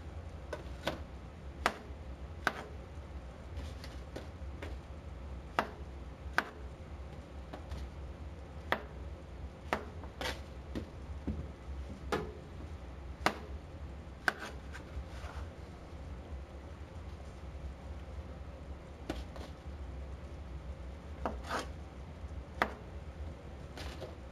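Knife chopping garlic on a board for chicken marsala, sharp isolated taps in an irregular rhythm, close and fairly quiet against a low background hum.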